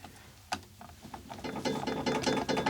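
Ratchet wrench clicking as it tightens the jaws of a quick-position bench vise, a quiet sparse click first, then a steady run of rapid, close mechanical ratcheting.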